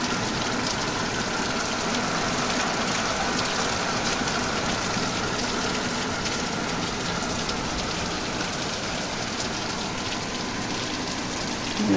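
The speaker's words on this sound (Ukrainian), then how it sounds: "Дочекалися дощу нарешті хоч польється все" Heavy rain pours down steadily in a dense, loud hiss of drops hitting surfaces, unbroken from start to finish.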